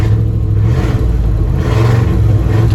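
A 1974 Chevy C20 square body pickup truck engine revs steadily as the truck drives, with a loud, continuous low rumble and rising and falling throttle close by.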